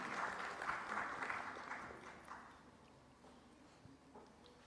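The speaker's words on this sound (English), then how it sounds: "I request all of you to welcome sir with applause." An audience at a science festival applauding to welcome a speaker, a burst of clapping that starts moderately loud and gradually fades out.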